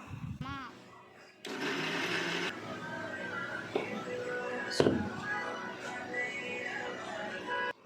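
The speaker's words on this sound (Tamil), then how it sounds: "இப்போ மிக்சியில் எல்லாம் ஒன்றா சேர்த்து நல்லா பேஸ்ட் மாதிரி அரைச்சி எடுத்துக்க வேண்டியது தான்." A mixer grinder blends cooled, cooked masala ingredients into a smooth paste for paneer butter masala. The motor cuts in abruptly with a loud whir and keeps grinding close by, with a few clunks and knocks.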